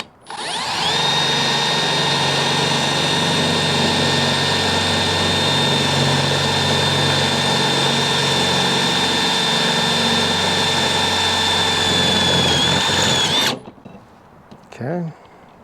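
A power drill fitted with an oiled KnKut bit spins at a high, steady whine for about thirteen seconds, loud and close, then cuts off abruptly, followed by a brief faint clatter.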